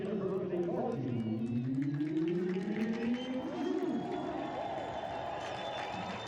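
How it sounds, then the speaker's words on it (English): Crowd cheering and applause at a women's college soccer match in Tallahassee as the band is announced, a steady broad roar throughout with commentators talking over it. "The band just getting announced here in Tallahassee, getting a little love from the crowd in case you're hearing some noise"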